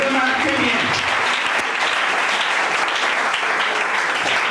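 A church congregation applauds and cheers for Jesus, steady, loud and close, with the claps and shouts filling the room throughout.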